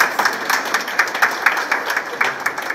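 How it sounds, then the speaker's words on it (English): A crowd claps in applause at the official opening of a school library facility at Brookhouse School, with individual claps distinct and steady throughout a few seconds. "A round of applause."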